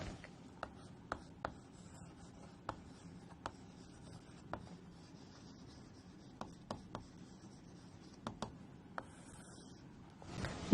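Chalk or marker tapping and scraping on a board during a chemistry lesson on solutions, sharp isolated taps scattered irregularly over soft rubbing strokes, close and fairly quiet, with no talking.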